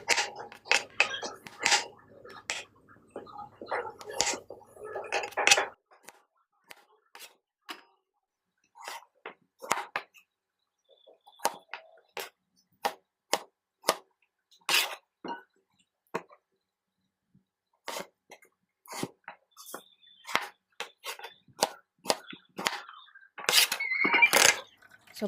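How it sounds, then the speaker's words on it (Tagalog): Raw pumpkin being chopped into small pieces on a cutting board for dog food, with a run of sharp, irregular knife taps and clinks, some close together and others spaced apart, heard near and clear with no talking. "Syempre hati-hatiin na natin yan ng maliliit."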